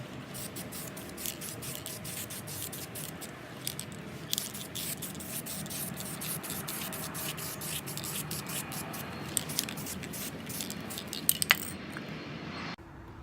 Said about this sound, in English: Shake it up, and let's give it a hit with a few coats.